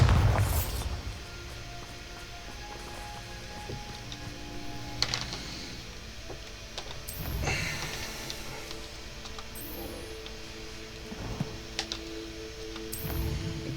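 A Bombarda spell explodes in the Hogwarts Legacy video game, giving several dull booming bursts spaced seconds apart over a low, ticking background.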